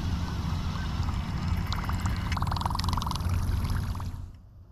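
A steady, churning splash of water from a River2Sea Whopper Plopper topwater fishing lure on a steady retrieve runs for several seconds, gurgling and bubbling at a constant pace before cutting off.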